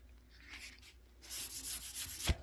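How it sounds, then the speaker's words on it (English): Someone hand-sands the body surface of a 1969 Mustang Mach 1 during a repaint. It comes through as a few faint, close scratchy strokes, growing slightly louder midway. "sanding to take it down"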